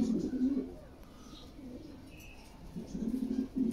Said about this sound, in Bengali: এক pair red Lahori running pair